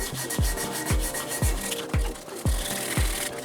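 Hand sanding of a car exhaust with 400-grit sandpaper and WD-40, a rhythmic rasping scrub in regular up-and-down strokes, about two per second, close and fairly loud.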